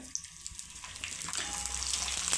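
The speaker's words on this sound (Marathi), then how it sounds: "अजून एक आपण तळून बघू पापड।" Papad frying in hot oil in a kadhai, a soft steady sizzle with light crackles that thickens toward the end, heard close and alone.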